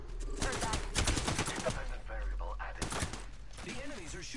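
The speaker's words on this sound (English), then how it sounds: "The enemies are shooting at me, giving my shields a recharge." Enemy guns firing in a first-person shooter video game, a steady stream of rapid shots in close bursts across the whole stretch, mixed with other game effects and a voice talking.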